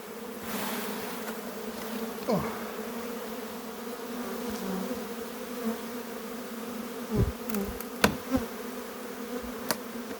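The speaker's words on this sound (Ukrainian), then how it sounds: "Дивіться, скільки бджоли" Honeybees hum in a steady, close buzz around an open hive with frames, with occasional louder passes and a few faint knocks in the background.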